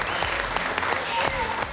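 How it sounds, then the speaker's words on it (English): Applause from a crowd celebrating the winning custom motorcycle build at a biker build-off in Phoenix, steady dense clapping filling the whole moment with some voices mixed in. "Give everybody a round of applause."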